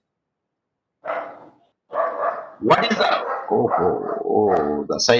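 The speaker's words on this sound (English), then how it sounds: "The dog is barking." A dog barks in a short series of bursts in the background during an online class, with someone talking over and after the barks.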